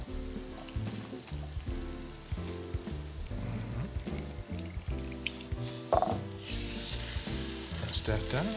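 Stuffed French toast fries on a hot griddle, a steady sizzle running beneath prominent, rhythmic background music, with a brighter hiss swelling near the end.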